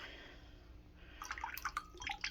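Soy sauce splashes in a few quick pours onto sushi rice in a home kitchen. After a soft hiss, several small close liquid splats and drips patter unevenly.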